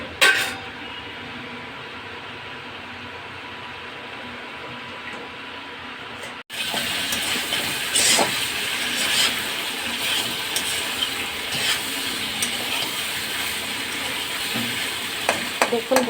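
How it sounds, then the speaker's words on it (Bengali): Meat for kosha mangsho is stirred as it braises in a pan, starting as a gentle simmering hiss, then after a brief clatter becoming louder frying and sizzling with scraping stirs, and no talking. "একটু নাড়িয়ে দিই, কষা হচ্ছে।"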